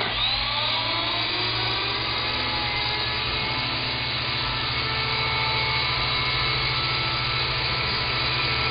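Small RC helicopter motor held at full throttle, a steady high-pitched whine with a constant drone underneath, close and unbroken for nearly nine seconds.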